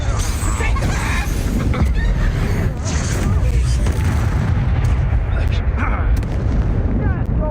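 Spell blasts and explosions from Confringo casting during combat in Hogwarts Legacy, dense booming impacts and crackling bursts layered over continuous battle noise, with voices talking throughout.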